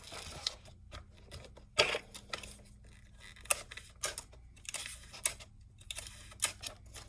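Tape being cut while securing a rolled cardboard rainstick tube, several quiet, sharp snips and clicks spaced irregularly at close range against a faint steady hum.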